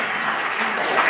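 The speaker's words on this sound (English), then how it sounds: "So give yourself a round of applause." Audience applause at an evening lecture event at UNC, a steady wash of clapping from a crowd, moderately loud and continuous throughout.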